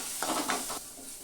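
Sweet corn kernels being stirred as they fry in a pan with salt and ground pepper for a peppery corn snack, a few short scraping strokes over a soft steady sizzle.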